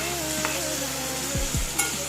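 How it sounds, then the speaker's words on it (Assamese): Chopped tomatoes fry in a pan for a dry fish chutney, giving a steady close sizzle with a couple of soft stirring knocks near the end. "এতিয়া ধুনীয়াকৈ বিলাহীখিনি ভাজি লোৱা হ'ব।"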